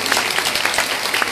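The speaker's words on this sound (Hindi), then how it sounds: "सभी के लिए ताली बजाए लेकिन आप लोगों के लिए ताली बजाने को" Dense, energetic clapping from an audience at a Srimad Bhagavatam katha religious discourse in Mohan Nagar, Ghaziabad, a short burst of many hands applauding together with no voices.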